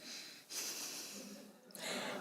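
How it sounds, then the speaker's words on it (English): A person impatiently puffs breath out through the nostrils, two sharp nasal snorts a little over a second apart with quieter breathing between them, close and alone. "When you're impatient with someone or something, often you might puff out your nostrils like this"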